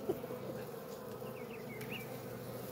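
Bees buzzing thickly around a stone cavity full of honey being opened, a steady swarm drone throughout with a few sharper whines passing close, no talking.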